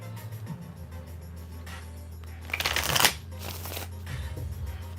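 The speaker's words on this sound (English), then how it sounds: "Just vibe while I shuffle." A deck of cards is shuffled close by. A soft riffle builds to a loud, dense burst of fluttering cards in the middle, then settles into quieter handling. Nobody talks.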